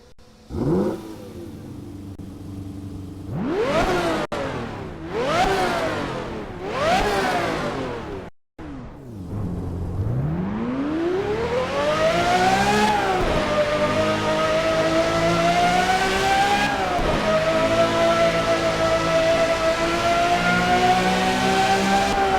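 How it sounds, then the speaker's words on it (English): Mercy SV car engine in a racing game revving hard, with three rising and falling throttle sweeps, a brief cut, then a long climb to a sustained high-pitched wail, loud and close with no talking. "we're getting updated Mercy SV sounds as well as a tune"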